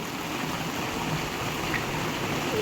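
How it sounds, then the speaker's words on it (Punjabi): Heavy rain pouring down in a village and flooding the area within minutes: a dense, steady, even hiss of rainfall, close and constant, with no talk. "ਪਰ ਮੀਂਹ ਬਾਕੀ ਬਹੁਤ ਤੇਜ਼ ਆਇਆ"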